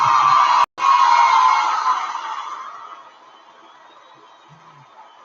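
A crowd cheers and screams in one loud burst that swells at once and then fades away over a few seconds, leaving near silence.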